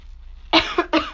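A sick person with a hoarse, fading voice coughs twice in quick succession, the first cough harsher and longer, both close to the microphone after a brief quiet moment.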